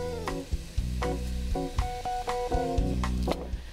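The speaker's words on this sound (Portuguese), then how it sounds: "Quando ele estiver quase pronto, você entra com a cebola" Garlic and finely chopped onion sauté in a pan, a close, continuous sizzle broken by rhythmic stirring clanks.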